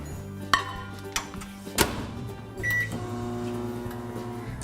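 A microwave oven melting white chocolate runs with a steady low hum, punctuated by sharp clacks and knocks of the door and bowl, then a brief beep before the motor drones on.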